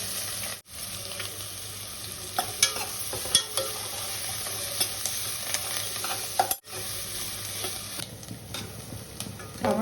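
Cumin, mustard seeds and onions being fried in oil for a tempering, producing a steady close sizzle with stirring and clinks, plus a couple of brief dropouts.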